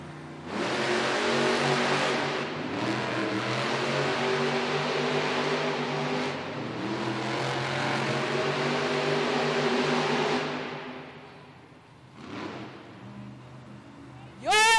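The monster trucks Zombie and Gravedigger race off the start line at a Monster Jam arena event in Hampton, Virginia, their engines a loud, roaring surge that holds for about ten seconds before fading, then a brief burst returns.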